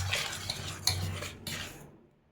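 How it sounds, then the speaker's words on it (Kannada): Cake batter being mixed by hand in a bowl for a homemade cake, a steady scraping and stirring with a few sharper clinks of utensil against the bowl, close and moderately loud, fading out at the end. "ನೋಡಿ ಚೆನ್ನಾಗಿ ಮಿಕ್ಸ್ ಮಾಡ್ಕೋಬೇಕು."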